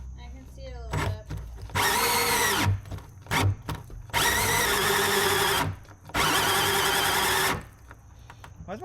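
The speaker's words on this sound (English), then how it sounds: "Why does my drill keep stopping?" A cordless power drill whirs in three sustained bursts, each a couple of seconds long, loud and close, with short pauses and brief clicks between them as it stops and restarts; a drill that was overheating and smoking.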